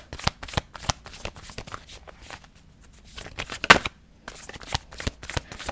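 Tarot cards shuffled by hand in a steady run of crisp riffling bursts, close and fairly loud, with a short pause midway before the shuffling resumes, no talk over it.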